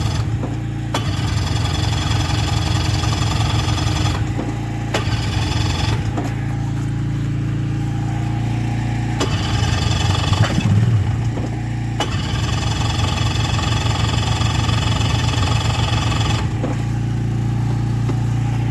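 A small engine, kicked over with the choke on, cranks and catches, then settles into a steady, loud idle that keeps running close to the microphone, with its rhythm wavering a little at times.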